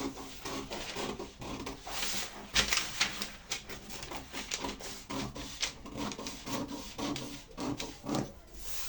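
Scissors cutting a dart off a paper dress pattern, a close, quiet, continuous rustling and snipping of paper.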